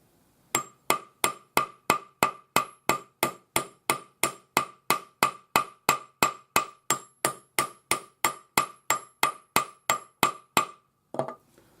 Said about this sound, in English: we'll just start hammering